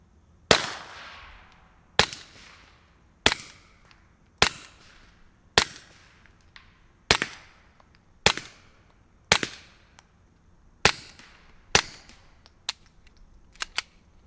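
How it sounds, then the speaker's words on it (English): Suppressed gunshots through a Hansohn Brothers MOD F4 suppressor in an eight-baffle long configuration: about a dozen sharp, close reports spaced roughly a second apart, each with a short fading tail, the last few quicker and softer. "There is still a very noticeable first round pop with it, but then after that, this thing gets very quiet."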